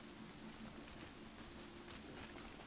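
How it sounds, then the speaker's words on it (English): Rain falls in a video game as a steady, even hiss with a soft patter underneath, constant and fairly quiet for the whole stretch. "Ooh, it's raining."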